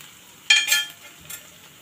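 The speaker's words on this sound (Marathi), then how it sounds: "आता आपण यात आलं लसूण पेस्ट घालूया एक अर्धा चमचा." Onion and ginger garlic paste hitting hot oil in a pan, a short bright hiss and crackle that flares twice, then fades to a soft sizzle with a small stir near the end.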